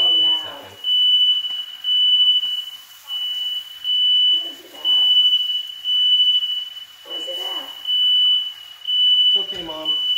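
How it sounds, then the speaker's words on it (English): A kitchen smoke alarm goes off during stovetop cooking, sounding a loud, shrill, rapidly pulsing beep that repeats without pause while someone speaks in short bursts. "Oh, my fire alarm's going off."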